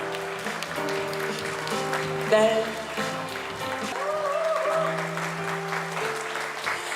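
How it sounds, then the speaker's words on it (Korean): An audience applauds during an appointment ceremony on a stage, the clapping steady and moderately loud beneath tonal music, with a voice speaking briefly. "여러분 힘찬 박수 보내주시죠"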